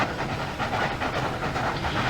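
A steam locomotive in the Trainz (TRS19) railway simulator, climbing a hill with a steady pulsing hiss of steam and rhythmic chuffing close by, with no speech.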